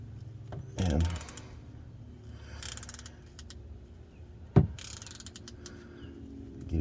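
A socket wrench ratchet with an extension loosening a bolt on a motorcycle's rear end gives short bursts of clicking and mechanical rattling, with a sharp metallic clack midway and quiet gaps between the bursts.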